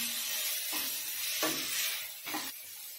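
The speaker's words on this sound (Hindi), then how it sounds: "अब इसे चला लेंगे।" Sarson saag being stirred in a pan, a steady sizzle with a few scraping strokes of the spoon at roughly one-second intervals, close and alone with no voices.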